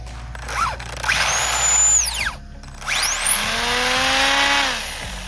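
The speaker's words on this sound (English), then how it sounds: "That drivetrain sounds really tight to me." A small, very fast RC car's drivetrain whirs loudly in two rising and falling bursts, whining high as it spins up and down, with its rotated tires rubbing slightly.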